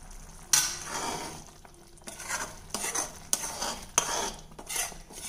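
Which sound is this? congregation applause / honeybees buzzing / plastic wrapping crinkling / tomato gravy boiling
tomato gravy boiling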